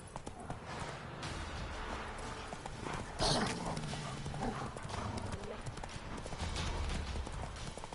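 In The Witcher 3 game, the horse Roach clip-clops at a steady rhythm, with a brief whinny partway through. A voice talks over the hoofbeats.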